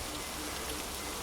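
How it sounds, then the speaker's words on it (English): Rain falling in the Borneo jungle, a soft, even hiss of drops on leaves and ground, faint and continuous with no voices. "I'm out here in the middle of nowhere and it's raining"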